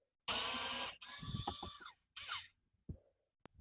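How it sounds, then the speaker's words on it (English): A power driver backs out a small Phillips screw from a 2007-2011 Toyota Camry XV40 armrest in several close whirring bursts, each stopping abruptly, followed by small clicks. "So now we take off that little screw."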